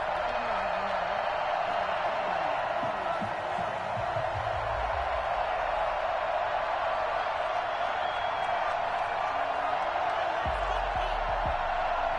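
A stadium crowd at a Buffalo Bills versus Carolina Panthers game in an EA Sports NFL title roars in a steady, dense wash that runs throughout, with a few muffled thumps underneath.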